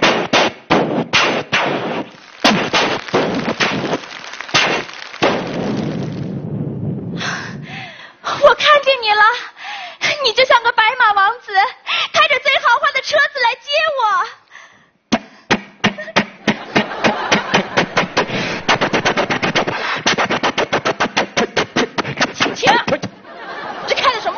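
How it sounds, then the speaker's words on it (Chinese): Firecrackers explode for a wedding procession: scattered loud bangs first, then a long rapid string of crackling pops. Voices and musical sounds come in between the bursts. "你听，迎亲的鞭炮"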